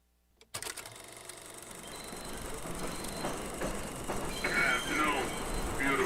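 A subway train on a New York line rolls toward 59th Street, a steady loud rumble of wheels and car noise building after a sudden start, with squealing metallic screeches near the end and indistinct chatter from passengers.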